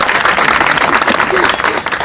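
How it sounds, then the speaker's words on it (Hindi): Audience applause at a Mahashivratri and Trimurti Shiv Jayanti celebration gathering, a dense, steady wash of clapping filling about two seconds at close range without a break. "अपने लिए तालियां बजाएं एक बार"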